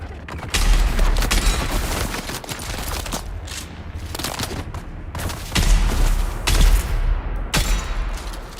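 Poisoned sniper rifle shots in Dune Awakening, several loud sharp cracks spaced a second or two apart, each with a booming tail, over a busy rumbling background.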